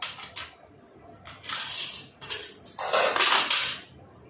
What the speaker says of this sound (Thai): ตักข้าว